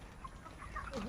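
Chickens on a poultry farm cluck in short, scattered calls over a steady low background murmur, with a rising squawk near the end.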